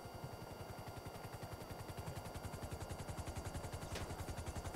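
Automatic gunfire in a GTA game, a steady, rapid, evenly spaced stream of shots lasting the full stretch, fairly quiet and distant-sounding, with no voices over it.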